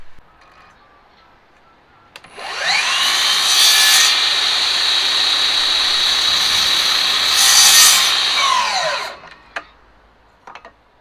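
A power saw makes one sustained cut through the tops of wooden stair spindles. It spins up loudly, holds a steady whine for about seven seconds, then winds down, with a few light knocks afterward.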